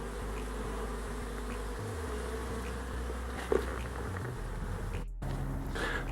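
Honeybees crowd the entrance of a hive as foragers bring in pollen, making a steady, close droning hum of many wings that runs unbroken throughout, with no talking.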